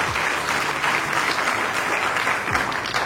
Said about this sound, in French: Applaudissez pour Monsieur Kassaki.